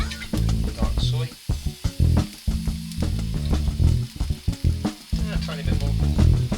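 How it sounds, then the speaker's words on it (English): Steady sizzling of red pepper and mushrooms frying in a pan, crackling close up with occasional stirring and scraping, no voices. "Got some red pepper and mushrooms frying in there."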